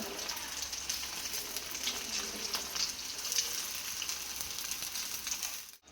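Food deep-fries in hot oil with a steady, faint crackling sizzle and scattered bubbling pops. The sound cuts off abruptly at the end, and no one talks.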